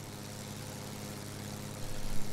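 A propeller airplane on its takeoff run from runway 10 in the Antilles gives a steady, unbroken engine drone, loud and close, with a few louder surges near the end.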